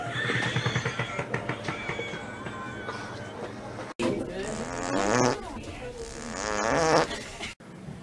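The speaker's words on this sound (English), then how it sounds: "That fart hurt." A long, loud fart after a colonoscopy rasps and sputters close up, stretching over several seconds with rippling, squeaky variations and brief breaks.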